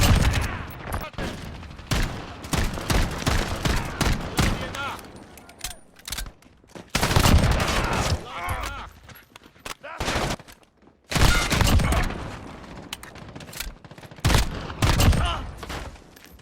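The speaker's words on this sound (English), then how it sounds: "Let me just show you like 20 seconds of the shooting in this game" Gunfire in Call of Duty: Modern Warfare, loud rapid automatic bursts and single shots in uneven clusters with short pauses, close and punchy, with no talking over it.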